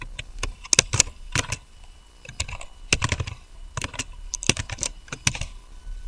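Clattering keystrokes on a computer keyboard come in quick bursts with short pauses, close and clear, with no talking.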